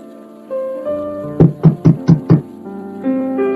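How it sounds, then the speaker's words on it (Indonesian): Five quick knocks rap on a wooden door in an even rhythm, set against a soft, sustained musical backdrop. "Suara pintu yang diketuk."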